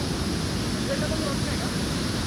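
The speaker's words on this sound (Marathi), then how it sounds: "मधून पाणी वाहत आहे" Constant heavy roar of flowing water at Kalu Waterfall, pouring through a deep gorge, dense and even, filling the whole stretch without pause.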